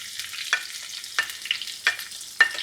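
Chopped onions sizzle in olive oil in a pan over a high gas flame, a soft steady fry broken by a few sharper crackles and stirring scrapes, with no talking.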